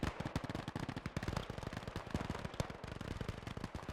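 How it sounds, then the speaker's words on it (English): An MG42 machine gun in Gates of Hell fires in rapid continuous bursts at Russian infantry near a trench. The dense, fast crackle of rounds carries the whole stretch, with only brief gaps. "I think I hear the MG42 over here engaging Russian infantry"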